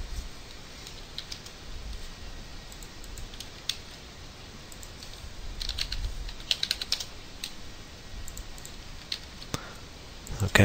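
Computer mouse and keyboard clicks, sparse and fairly close, sound over a quiet room hiss as buttons are clicked one at a time. A few clicks bunch into quick runs, and a sharper tap comes near the end.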